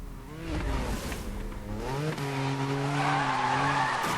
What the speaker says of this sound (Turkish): Arabanın kaymasını istiyorum.